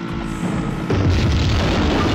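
A large explosion in the video game Tomb Raider II, set in the Tibetan Foothills, lands as a sudden loud boom partway through and rumbles on with heavy low-end roar over game music.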